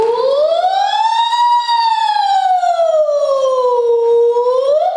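A single voice imitates a siren, gliding smoothly up and down in pitch in one continuous, loud, close tone.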